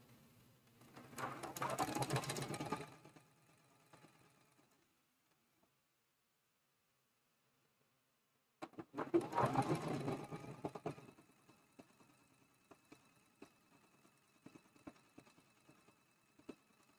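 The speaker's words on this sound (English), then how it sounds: "And we're sewing that seam." A sewing machine stitches a seam on a log cabin block for a Christmas quilt, running in two close, steady bursts of about two to three seconds each, separated by a quiet pause, with no talking.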